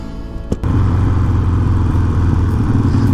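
Harley-Davidson Sportster motorcycle engine running steadily up close, a brief thump near the start, then a continuous low rumble with pulsing exhaust beats throughout.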